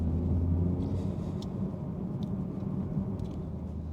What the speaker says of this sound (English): I love this car so much, and it drives like a supercar, and it's really controllable and so loud at the same time